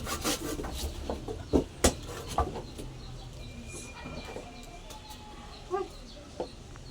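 Hard wood being cut with a hand saw outdoors, heard as irregular rasping strokes with a few sharper knocks, while chickens cluck faintly nearby.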